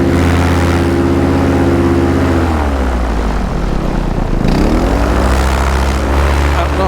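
Paramotor engine and propeller roaring loudly and steadily close by during a cross-country flight takeoff, pitch sagging midway then climbing again as the throttle opens.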